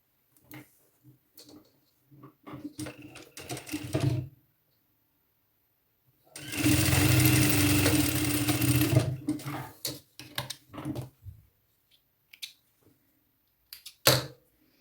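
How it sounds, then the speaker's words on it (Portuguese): Sewing machine stitching the seam of a midi dress: scattered light ticks and handling, then a loud rapid mechanical whir for about three seconds, followed by more short clicks and taps of fabric handling. "E vou começar a costura desse ponto aqui até o final."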